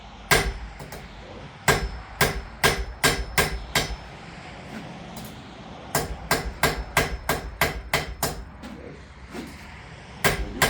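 Heavy hammer blows on hot metal at an anvil while forging a pointed, chisel-like tip, a close, loud series of sharp ringing strikes in rapid clusters with short pauses between.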